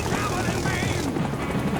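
A helicopter in Rising Storm 2: Vietnam roars with a dense, steady rotor thrum close by, with voices talking over it.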